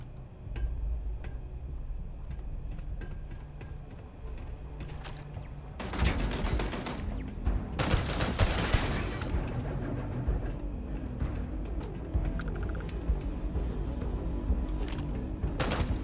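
Large turrets firing in the sci-fi video game Starfield: sharp bursts of rapid gunfire break out in the middle, over a busy bed of continuous game sound.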